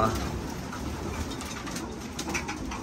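Pigeons cooing and shuffling in a loft, a steady murmur of bird sounds with occasional wing flutters, moderately close.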